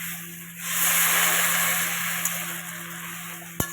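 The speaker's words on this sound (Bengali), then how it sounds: "এবার আমি একটু জল দিয়ে দিচ্ছি" Water poured into a hot pan of fried ingredients, for water spinach (kalmi greens) cooked with fish, hisses into a loud, steady steam rush that fades slightly, ending with a sharp utensil knock.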